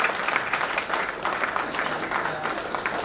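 Thunderous applause fills a hall at the Kavita Keerti Award ceremony as an honoree is recognized, dense crowd clapping with a few louder peaks, continuous throughout.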